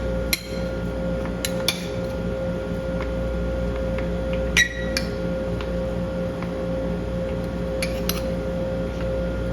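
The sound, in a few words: mixing ice cream in a bowl with a utensil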